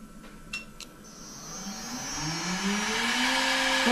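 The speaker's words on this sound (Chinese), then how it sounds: "那个就是咱们新换的主轴电机" Newly replaced spindle motor on a side-hole drilling machine in a camper van conversion workshop spins up from slow to fast, its whine rising steadily in pitch and growing louder over a few seconds, with no talking.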